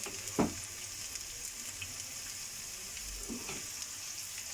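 Onions frying in a pan with cumin for a chicken curry, giving a steady, soft sizzling hiss throughout with a couple of brief louder stirring scrapes, no talking.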